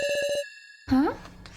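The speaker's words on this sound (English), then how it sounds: "Ming says, Sarah, there's a message on this phone, wow." Message alert on a phone in the game Your Turn to Die: a quick run of five bright electronic beeps in rapid succession, followed by a short burst of chatter.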